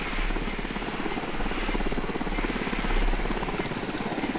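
A helicopter approaches in the Ghost Recon Wildlands video game, a steady, rapid rotor chop with a low engine drone, moderately loud and continuous, with faint periodic clicks over it.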